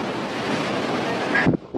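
Calm sea waves wash onto the coast at Agadir in a steady, close surf hiss with wind buffeting the microphone, then briefly cut out near the end; no one speaks.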